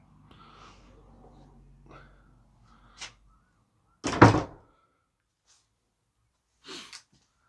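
An old wooden door on the pine church porch of St Michael the Archangel, Woodham Walter, Essex, gives a few creaks and a loud heavy thunk, followed later by a softer knock, in a quiet space.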